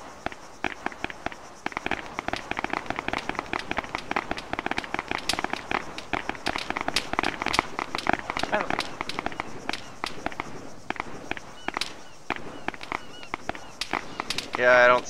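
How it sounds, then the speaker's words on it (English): Gunfire in the Arma 3 military video game: many sharp, rapid cracks and pops scattered throughout, some bursts close and loud, others distant, with faint voices in the background. "But do you hear any gunshots? Yeah, I do."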